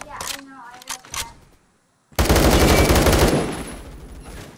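AK rifle fire in the online shooter Phantom Forces: a brief voice and a few sharp shots, a pause, then a loud sustained automatic burst lasting about two seconds.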